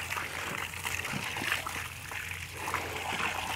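Warm spring water splashes and trickles steadily as someone washes at a hot spring bathing spot, a continuous close wet sloshing with no pauses.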